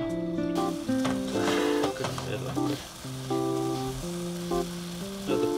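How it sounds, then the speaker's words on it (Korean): Red wine sauce boils and sizzles in a pan, a steady close hiss running beneath a melody of sustained musical tones. "레드 와인을 끓여요."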